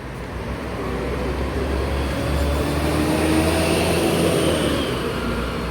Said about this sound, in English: there is now a bus arriving. It's a 624 bus to Oakley.